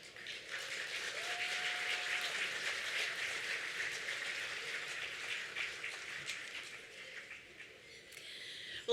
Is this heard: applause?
yes